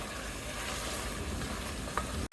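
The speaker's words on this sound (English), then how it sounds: "You see how it's frying and it's, oh wow, you hear that?" Goat meat fries with wine in a pan for an Italian capretto dish, a steady close sizzle that continues evenly with no one talking.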